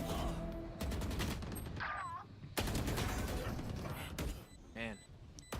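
Rapid gunfire bursts ring out in the video game Valorant during a pro esports match, sharp repeated shots in clusters with game sound effects, while commentators talk over the action.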